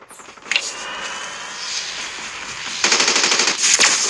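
Automatic gunfire in the Call of Duty Mobile Warzone game, rapid sustained bursts of shots, loud and close, with a heavier stretch of firing near the end.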